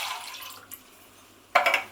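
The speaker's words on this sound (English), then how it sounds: "you're pouring your water into the tin to swirl it round" Water poured into an emptied tomato tin and swirled around, a short splashing pour at the start, a small slosh, then a louder swirling splash near the end.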